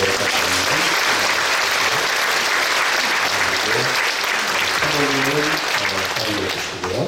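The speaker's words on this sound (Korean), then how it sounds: "박수로 부탁드립니다." A church congregation applauds at a pastor's installation service, with sustained, dense clapping throughout while voices talk and call out over it.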